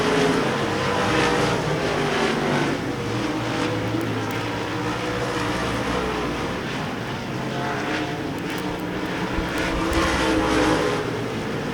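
Race cars at Devil's Bowl Speedway roar around the track in steady, continuous engine drone, swelling and easing slightly as the field laps through traffic, loud and unbroken with no voices over it.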